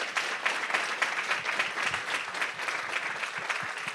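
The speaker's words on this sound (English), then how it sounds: "can we give another round of applause to Dr. Hayden and Donna Gloeckner?" An audience at an anniversary celebration gives a sustained round of applause, dense even clapping that is fairly soft and distant and carries on evenly throughout.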